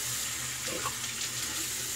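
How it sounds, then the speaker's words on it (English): Warm water runs steadily from a tap, a continuous hissing splash with no talk over it. "Some warm water going out of the tap."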